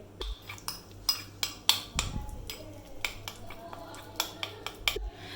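A spoon clinks and scrapes repeatedly against a bowl while mixing whitening powder into a beauty paste, with sharp light taps spread irregularly throughout.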